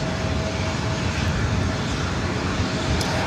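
A Delta Connection SkyWest CRJ-700ER jet airliner at LAX gives a steady, loud, broadband engine roar that holds evenly throughout, with no talking.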